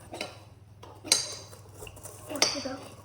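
Spoon scraping and clinking against a mixing bowl while stirring thick deep dish cookie cake dough, with a few sharper clanks standing out over low background hum.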